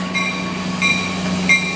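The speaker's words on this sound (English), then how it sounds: "thank you, Mr. Train. Woo! That's loud." A train rumbles past loudly and steadily, a low continuous roar with faint tonal squeal from the rails rising briefly in two short swells, no voices over it.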